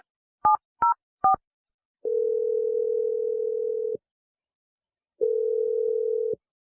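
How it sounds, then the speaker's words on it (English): Three quick touch-tone dialing beeps ring out, followed by two long, steady telephone line tones separated by a pause of silence, clean and close with no voices. "I'm going to dial it, and we're going to get you your second date."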